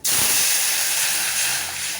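Pepper rasam poured into a hot oil tempering hits with a sudden loud sizzle that settles into a steady, fierce hiss.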